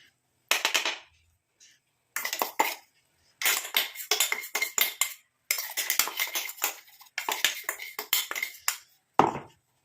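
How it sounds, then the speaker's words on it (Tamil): A metal spoon scrapes and clinks against the sides of a mixer grinder jar to loosen ground hair-dye paste, in short bursts of rattling strokes separated by brief silences, close and clear. "நாங்கள் இந்த ஸ்பூன் வச்சு அப்படியே சைடில் உள்ளதெல்லாம் எடுத்து விட்டுக்கலாம்"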